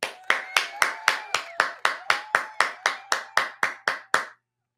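A steady run of about fifteen sharp hand claps at an even pace, close by and loud, then stopping abruptly.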